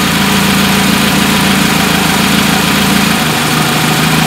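A carbureted car engine idles on LPG, a steady, continuous hum with low vibration that holds even throughout, loud and close.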